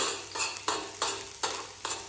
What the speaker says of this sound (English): I am frying garlic about